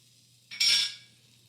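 Oven fries get flipped on a metal baking tray, a single short scraping clatter of utensil against the pan lasting under half a second, otherwise quiet.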